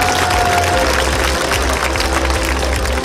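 Audience applause at an outdoor stage of the 38th Icheon Ceramics Festival in 2024, a dense, steady wash of clapping from a large crowd, loud and sustained throughout with a low hum beneath.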